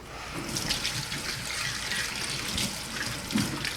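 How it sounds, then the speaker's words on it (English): Running tap water splashing into a sink while hands are washed with soap and water, a steady close rush with small splashes and no talking. "make sure to wash your hands with soap and water and dry them well"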